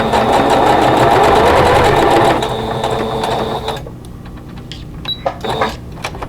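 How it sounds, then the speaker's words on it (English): A sewing machine stitching fabric for a table runner runs loud and steady with rapid mechanical clatter, then slows and stops, leaving a few quieter clicks and taps. "I have my machine set so that my needle will be down in the fabric when I stop."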